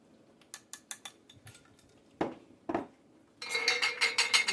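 A spoon stirring homemade beans with smoked bacon in a pot, a series of sharp clinks and scrapes against the pot, sparse at first then a quick dense run of metallic taps at the end.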